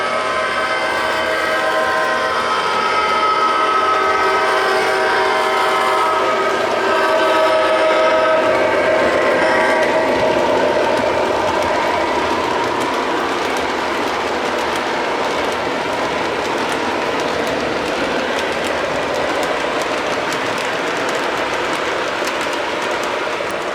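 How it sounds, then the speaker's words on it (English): An O gauge model train runs along layout track, giving a steady, loud rumbling clatter with a whistle-like tone early on, continuous with no talk. "Get a little shot of the train running down to our new track that we've just finished."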